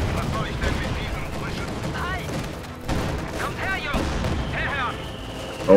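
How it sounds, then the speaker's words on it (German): Gunfire in the World War II strategy game Company of Heroes 2, Western Front Armies, with rapid bursts of shots and booming impacts spread across the battle, continuous and dense, alongside other combat sounds. "Super Schüsse."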